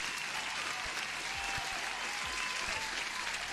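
Applause rolls on steadily from a crowd at a livestream, a dense hiss of clapping at moderate level with a few low thumps underneath, continuous throughout with no talk.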